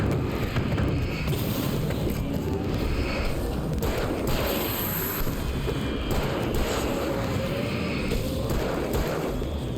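Fireworks going off in the video game Alan Wake, a dense rumbling barrage of booms and crackles that runs steadily and loudly through the whole stretch with no talking.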